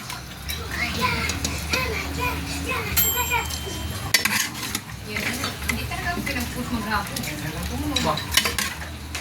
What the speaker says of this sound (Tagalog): Lagay ko na yung baka guys